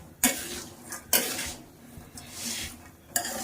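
Salted peanuts roasting in a pan, stirred with sharp metallic scrapes and clinks against the pan at irregular intervals, with a soft rustle of shifting nuts between strokes.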